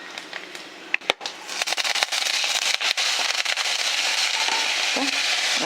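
Garlic, then curry leaves, hit hot oil while cooking peerkangai dal, setting off a loud, close, dense crackle and sizzle that starts with scattered pops and settles into a continuous spitting hiss.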